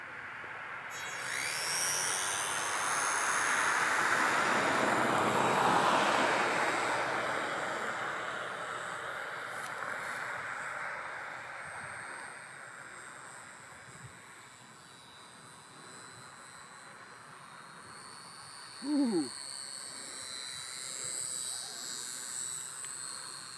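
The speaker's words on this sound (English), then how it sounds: "And the banner plane flies in the sunset, by the way." Tobyrich Smartplane Pro toy banner plane flying at sunset, a thin buzzing propeller whine that swells as it passes nearer and then fades into the distance, with faint outdoor ambience and a brief knock near the end.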